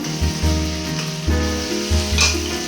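Spice paste with chili powder sizzles loudly as it goes into a hot pan, with close, steady frying crackle and a few rhythmic stirring scrapes over about three seconds.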